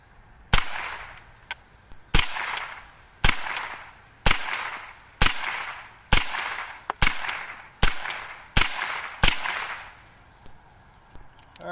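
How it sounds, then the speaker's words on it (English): .22 Long Rifle rounds fired from an AR-style rifle with a .22 conversion, about ten sharp cracks spaced roughly a second apart, each trailing off into a brief outdoor echo, with no talking. "we're going to start with 22 long rifle out of this 22 conversion AR."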